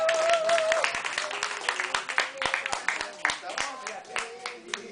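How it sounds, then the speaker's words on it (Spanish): Applause from a small audience at an arts café evening, scattered distinct claps with a voice talking over the start, thinning out into sparse individual claps. "Un aplauso."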